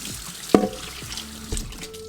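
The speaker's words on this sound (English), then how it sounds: "I'm honestly gonna put some dish soap in the basin and all over this and just start going at it" Water splashes and sloshes in a humidifier basin as it is scrubbed with dish soap, with one sharp nearby splash and a smaller one after it over a quiet wet background.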